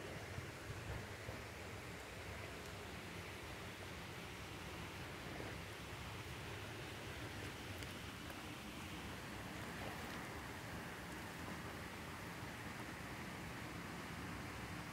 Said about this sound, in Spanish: No sé si oyen lo hermoso del agua cayendo.